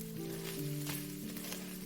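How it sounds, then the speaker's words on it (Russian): Ground beef frying in olive oil in a pan, seasoned with salt and black pepper, gives a steady close sizzle with a few faint tonal whines running underneath. "Жарим фарш 5-6 минут до румяности."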